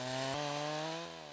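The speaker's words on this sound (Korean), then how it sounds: "벌목은 나무 밑둥의 적당한 부위를 톱질해서 넘어뜨리는 형태로 진행된다." A chainsaw cuts into the base of a tree during Russian winter logging, its loud buzzing engine holding a steady pitch before dipping and dropping off as the cut bites, with no voices.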